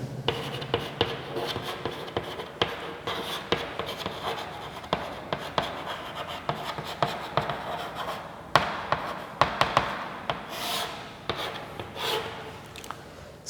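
Pen scratching on paper while writing out the steps of a geometry construction for a circle tangent, close and steady with small tapping strokes, and no talk.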